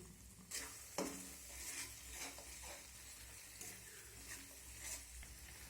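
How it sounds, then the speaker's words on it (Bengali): Ground banana stem fries with tempering spices over a high flame while being stirred, a faint, steady sizzle with soft scraping strokes of the spoon in the pan and no talk. "এখন ফোড়নের সঙ্গে এই থোড়টাকে খুব ভালোভাবে নেড়ে চেড়ে নিতে হবে।"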